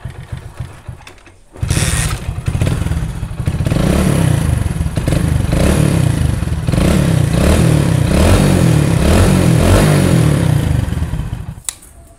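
Hero Splendor motorcycle engine running after a clutch plate fitting: the engine starts, then idles steadily with a close, loud, rhythmic chugging, and a few light blips of the throttle.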